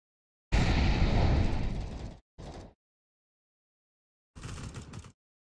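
Flashbang grenade going off in a tactical shooter game: a loud, sharp burst with a long ringing decay, a short second pop just after, then another brief burst a couple of seconds later, with no talk.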